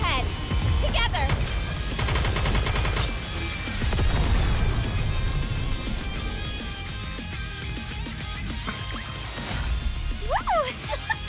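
Gunfire and bombardment in the video game Nikke, rapid bursts of shots and impacts crowding the scene, with game voices and chiming effects over the din.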